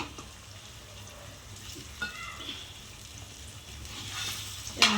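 Eggs stirred as they fry in a pan for a garlic egg curry, giving a steady soft sizzle with a few light scrapes and a sharper clink near the end, no talking.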